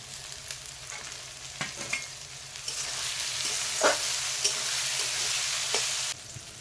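Ginger-garlic paste and tomato fry in a pan for chicken curry, giving a steady sizzle with scattered scraping stirs and clinks from a spoon, close and without talking.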